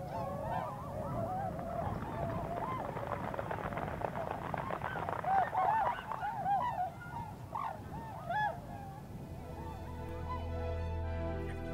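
A flock of wild swans on a lake gives a chorus of honking calls, steady and moderately loud, blending into a broad wash of sound as the birds take off.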